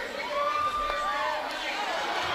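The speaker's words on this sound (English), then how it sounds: "A good vocal crowd, and that's what these cowboys and cowgirls love to hear, is y'all making noise in the crowd" A vocal rodeo crowd cheers and shouts inside a coliseum during barrel racing, a continuous broad roar with thin whistle-like tones rising and falling over it.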